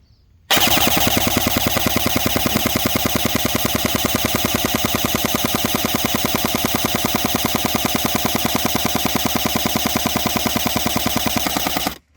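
Barra 400E Gen 2 all-metal electric .177 BB machine gun firing full-auto: one unbroken, loud, rapid buzzing burst of closely spaced shots lasting about eleven seconds, then stopping abruptly, with no talk.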